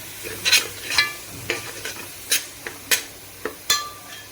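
Oil sizzles and crackles with garam masala for a crab curry as a spoon scrapes the pan in repeated short strokes, with the steady fry continuing between them.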